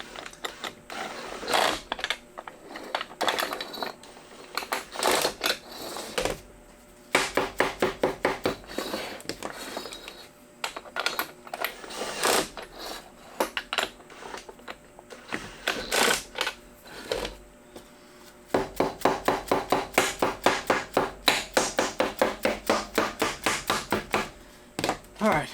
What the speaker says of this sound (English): Right now I'm just on setting 11 or so on the drill, so it's enough that they won't move around